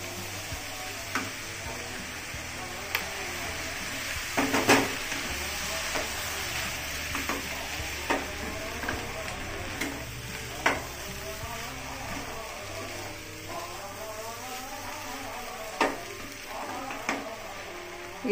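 Semolina and vegetables sizzle in a pan after water is added, a continuous hiss broken by repeated scraping strokes and clinks of a spatula, with a few sharper knocks.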